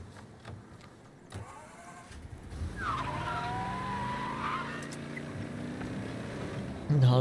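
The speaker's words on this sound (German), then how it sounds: "Halbwegs schnelles gefunden. Ein schönes Convertible." A convertible in Mafia Definitive Edition starting off and driving, with a few clicks and thumps, then an engine revving up and holding a steady, rising drone, with tire noise and a louder jolt at the very end.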